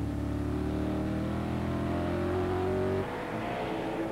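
TVR Tuscan race cars at a 1994 circuit race brake into a corner, loud engines holding a high droning note that drops sharply as they lift off, then carry on at a lower pitch.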